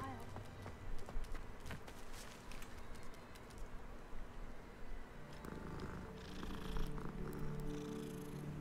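Cat purring in the Hogwarts Legacy video game, a low rumbling purr under game ambience and footstep-like sounds, with a voice speaking partway through.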